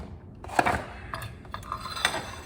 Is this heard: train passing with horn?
no